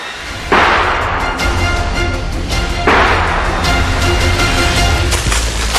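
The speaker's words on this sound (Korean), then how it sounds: "총소리를 쫓아 정신없이 달려간 그곳에서 사냥꾼들이 절 반깁니다." Hunters' gunshots in Kyushu, Japan, two sharp blasts a couple of seconds apart that ring out loud and close over a rumbling outdoor background, with no voices.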